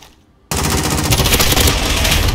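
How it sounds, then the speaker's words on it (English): An M13 rifle fires on full auto in a video game gunfight tournament: a sudden, loud, continuous burst of rapid shots after a short quiet opening, with no talking. "M13. This is a very, very good gun."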